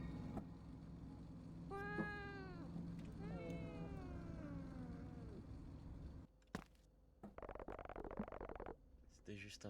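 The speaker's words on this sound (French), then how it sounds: "C'était juste un chat." A cat in the video game Vacances à Woodbury gives two drawn-out, wavering meows close by over a low droning background, followed by abrupt clattering noises, while a person talks.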